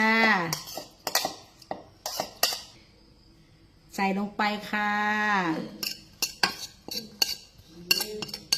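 Utensils clink and scrape against a bowl as blanched squid is mixed with dipping sauce, with someone speaking in Thai in bursts between the stirring.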